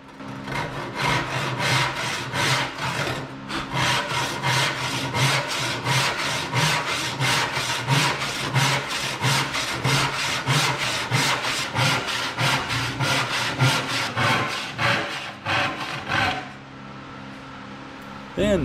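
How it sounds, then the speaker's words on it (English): A hand saw cuts through a wooden board clamped in a vise, rhythmic back-and-forth rasping strokes repeating steadily and loudly for most of the stretch before stopping near the end. "People have asked me why I cut my boards in the vise instead of hanging over the bench."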